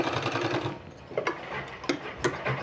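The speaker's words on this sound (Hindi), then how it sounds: "इस तरह से इसको सिल देना है, ज्वाइंट कर लेना है आपस में।" A sewing machine joins two strips of fabric, one yellow and one another colour, whirring in a steady run that gives way to a few sharp clicks and ticks as the stitching pauses and restarts.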